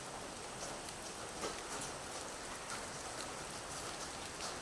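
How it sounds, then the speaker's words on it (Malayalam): Light drizzle falls softly over a home garden planted with tulsi and mukkutti, a faint, steady hiss of fine rain with no voices. "നല്ല ചെറിയ പൊടി മഴയുണ്ട്"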